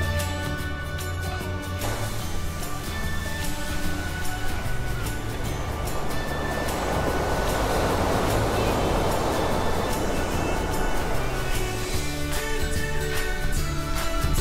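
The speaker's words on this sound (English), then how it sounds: "What an amazing view and an amazing beach." Surf washes onto a beach near the Golden Gate Bridge, a continuous hiss that swells louder through the middle, with a steady tonal background running throughout.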